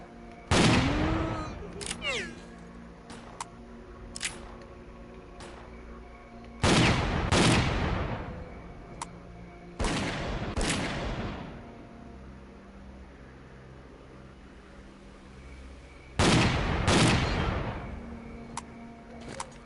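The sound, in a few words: shotgun gunfire in video game Stalker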